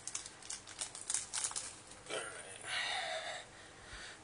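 Trash Pack Series 5 toy packaging torn open with teeth, giving close crinkly plastic rustling and short ripping bursts over a few seconds.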